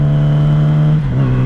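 A motorcycle engine droning steadily in 3rd gear while riding, a loud, close, continuous hum that dips briefly in pitch near the end.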